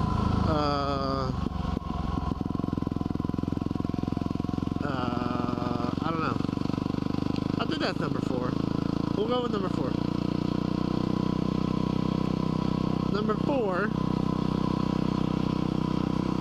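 A dirt bike engine idling, a steady, close, continuous low rumble that holds throughout, with someone talking over it.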